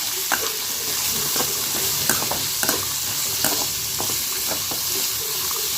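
Carrots stir-fried in a pan crackle with a loud, continuous sizzle, close up, punctuated by frequent light scrapes and taps of a spatula, with nobody speaking.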